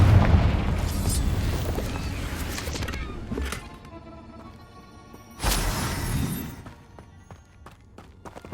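A Confringo fire spell blasts in Hogwarts Legacy, a heavy booming explosion at the start that rumbles down, then a second sharp burst midway that fades away, loud and close with no talking.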